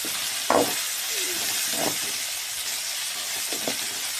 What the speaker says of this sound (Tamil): நல்லா வதங்கட்டும். இந்த வெங்காயத்தோட கலர் நல்லாவே மாறணும்.